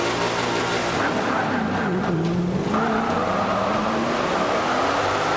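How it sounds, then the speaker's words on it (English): A race car on the track in the video game Forza 5 drives hard, its engine droning and shifting pitch with skidding tires, loud and continuous with no talk. "you will hear the game sound from the car and everything like that when we get onto the track"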